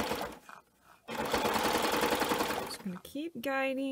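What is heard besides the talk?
serger sewing bias binding onto a quilt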